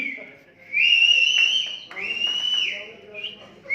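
A person whistles at a lively program in Zirkpur, giving two long, steady, high-pitched whistles close by with a brief dip between them, while voices are heard around.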